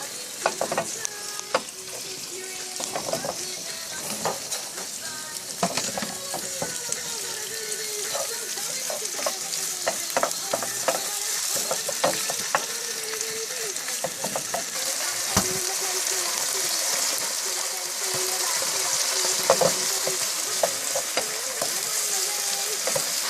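Kimchi stir-fried over high heat in a pan for a mackerel kimchi stew, with a steady close sizzle broken by frequent sharp scrapes and taps of a spatula stirring throughout.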